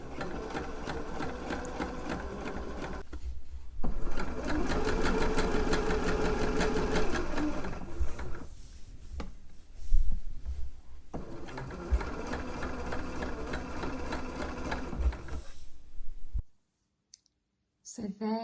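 A sewing machine runs steadily close by while understitching a dress bodice facing, in long continuous bursts broken by short pauses. It stops near the end, and soft speech is faintly present.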